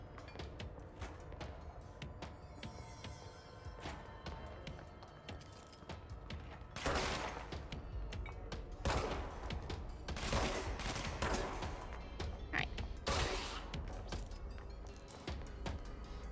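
Gunfire in the video game Control: bursts of rapid shots and heavy blasts with mechanical clanks, fairly faint and steady across the stretch, with brief louder volleys and no voices.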